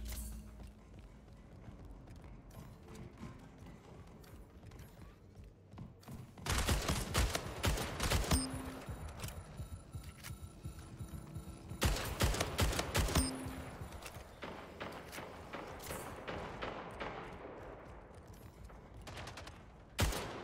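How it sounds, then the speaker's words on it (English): Bursts of gunfire from the video game Splitgate, with two loud volleys of rapid shots standing out over a steady backdrop of game ambience and scattered distant firing. "They're just randomly shooting into my portal."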